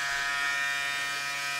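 Braun Series 6 self-cleaning station running with a steady electric buzz and whir, constant and close, with no pauses or talk.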